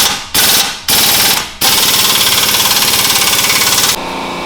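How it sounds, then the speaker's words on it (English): An impact wrench tightens exhaust clamps on a Whipple-supercharged Mustang GT during a Valvetronic Designs active exhaust install: three short, loud rattling bursts, then one long hammering run up close before it stops. "we're just gonna hit this with the impact and tighten this down"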